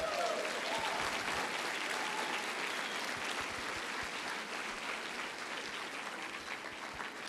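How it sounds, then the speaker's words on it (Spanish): A church congregation breaks into sustained applause, dense steady clapping that continues evenly throughout and tapers only slightly toward the end. "Dele un aplauso fuerte a Cristo."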